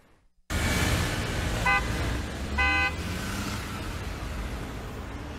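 Road traffic roars in a large Brazilian city, with car engines forming a dense, close wash of noise. Two short horn toots cut through it.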